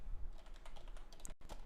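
Python code being typed on a computer keyboard, a quick run of soft clicking keystrokes up close with a brief pause near the end.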